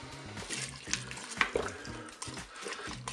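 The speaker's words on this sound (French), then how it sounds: "Je vais pouvoir verser mon eau." Water with crumbled chicken stock cube is poured into the pot of a Cookeo multicooker, giving a close, continuous splashing trickle with a few clinks over about three seconds.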